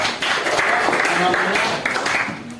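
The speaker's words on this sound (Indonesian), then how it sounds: "Tepuk tangan lagi." A classroom of students claps during a teaching-practice lesson on petty cash, a brief burst of steady applause from many hands at moderate loudness, with voices mixed in.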